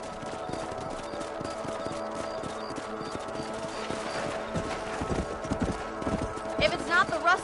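Horse hooves clip-clop steadily in the Red Dead Redemption video game as a rider remounts on a ranch, a continuous rhythmic trot at moderate distance beneath a man's spoken dialogue.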